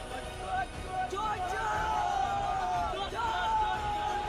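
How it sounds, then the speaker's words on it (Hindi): Crowd of dozens in Shyampur, West Bengal, shouting and chanting "chor chor" at a man being dragged along, a dense, continuous mass of raised voices with rising yells, close and loud throughout. "एक आदमी उसे घसीट कर ले जा रहा है और पीछे से लोग चोर चोर का नारा लगा रहे हैं।"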